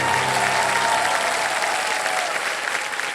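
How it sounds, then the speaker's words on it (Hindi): Studio audience on a Hindi television quiz show breaks into loud, sustained applause, a thick continuous roar of clapping that holds steady for several seconds and eases slightly at the end. "Big hand for everybody."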